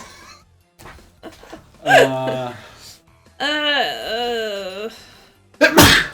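A single close, sharp sneeze bursts out at the end, preceded by strained, moaning vocal sounds and breathy gasps.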